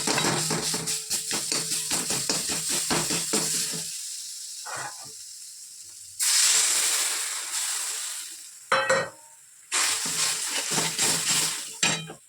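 Turmeric and cumin paste hits hot oil in a pan, giving loud bursts of sizzling hiss between quieter gaps, with stirring and utensil clinks close by.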